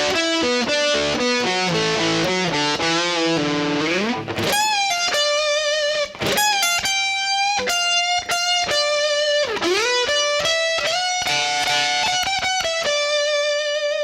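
Electric guitar with distortion and effects plays the fourth line of a solo at a slow tempo, a continuous melodic line of sustained, bent notes with no talking.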